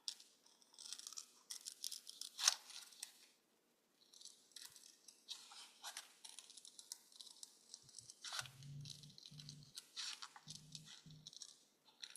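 Paper being cut with scissors during a spring birdhouse craft, heard as a series of crisp, dry snips in short bursts, fairly close, with low voices talking intermittently in the second half.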